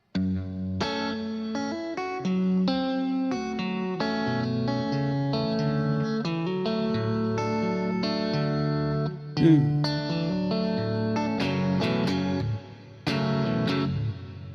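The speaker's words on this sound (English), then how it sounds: "I could do with less reverb. I think the reverb's pretty intense." Fingerpicked guitar playing a figure from 'The Devil Wears a Suit and Tie' through a heavy reverb effect, a sustained, washy stream of ringing notes with a short break near the end.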